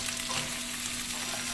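Sausages frying in oil for a fried egg and sausage dish, making a steady, dense crackling sizzle heard up close, with no voices and an even level throughout.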